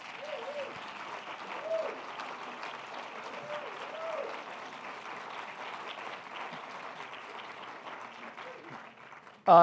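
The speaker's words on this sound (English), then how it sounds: "A round of applause for Justice Sotomayor, please." An audience at an award presentation applauds steadily for several seconds, a warm continuous patter that fades out near the end.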